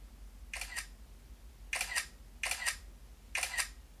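Shutter clicks from an iPhone 16 Pro Max camera sound four times, each a crisp double click, irregularly spaced over a few seconds, close and moderately quiet, with no talking.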